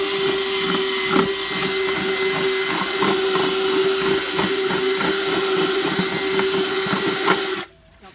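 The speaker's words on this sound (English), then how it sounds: "I just kind of moved the drill bit around a little bit to make the hole a little bit bigger" A power drill whines steadily at close range while drilling a hole in a bucket, its motor holding one pitch with a rough grinding texture, then cuts off abruptly near the end.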